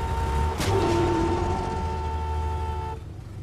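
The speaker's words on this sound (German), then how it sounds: "Einfach hupen, ne? Dann weichen die schon aus." A car horn in the video game Far Cry 6 gives one steady, sustained honk lasting about two seconds over a low engine rumble, then cuts off.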